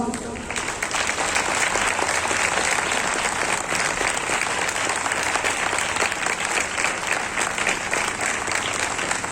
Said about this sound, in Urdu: میں سب سے پہلے میں چاہتا ہوں کہ آپ کی تالیوں سے پتہ چلے، قاری عبدالصمد صاحب